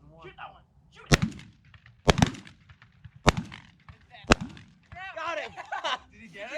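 Four sharp shotgun blasts ring out about a second apart during a pigeon hunt outdoors, loud and close, with excited voices talking between and after the shots.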